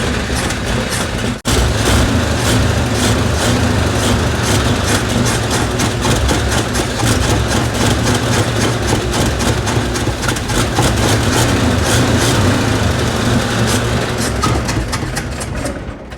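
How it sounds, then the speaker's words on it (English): A 1949 Chevy engine, started after sitting for twenty years, idles steadily with a loud low rumble and rattly mechanical racket, running continuously after a brief cough at the start. "Cool, engine sounds good."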